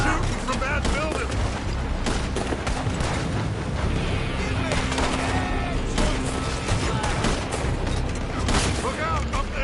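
Dense gunfire fills a Red Dead Redemption 2 shootout, with rapid overlapping shots and booms coming from a building. The bursts run on continuously and stay loud throughout.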